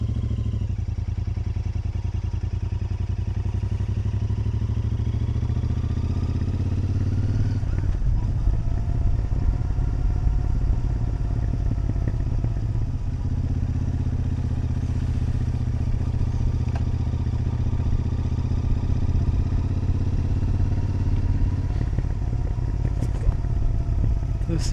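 A motorcycle engine drones steadily throughout a point-of-view ride, a low continuous rumble with a few shifts in pitch and some wind and clatter, heard close up and alone.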